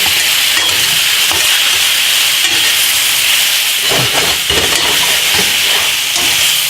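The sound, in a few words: stirring mushrooms and garlic sizzling in a pan for pork piccata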